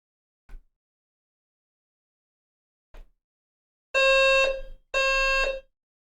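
A smoke alarm sounds two long, loud piercing beeps in close succession after a few brief faint ticks, with no talking during the beeps.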